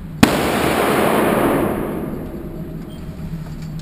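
A single sharp pistol shot from a Smith & Wesson .40 caliber handgun fitted with a muzzle brake cracks loudly outdoors, followed by a long rolling echo that fades over several seconds.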